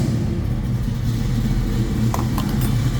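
Steady low engine rumble from a 1967 Ford Mustang coupe with an EFI system, heard close and loud, a continuous throaty drone with slight swells but no sharp revs.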